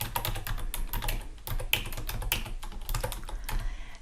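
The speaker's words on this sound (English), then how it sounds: "so I can just type over the top" Rapid typing on a computer keyboard, a close, steady patter of key clicks with occasional louder taps, heard alone without speech.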